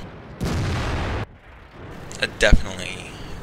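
An M46 Patton tank fires its gun in World of Tanks, a loud booming blast with a rumbling tail, followed by a quieter stretch with sharper thuds and pops near the end, close and punchy.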